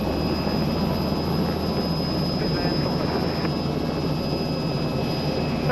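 A Robinson R66 helicopter runs on the ground before lift-off, with a steady, loud engine and rotor drone filling the whole stretch and a constant high whine above it.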